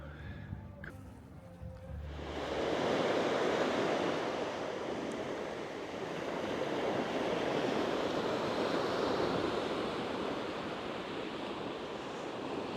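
Sea waves wash steadily onto the shore near a campsite on the Spanish coast between Almería and Málaga, a loud continuous rushing surf with wind buffeting the microphone, rising after a brief quieter start.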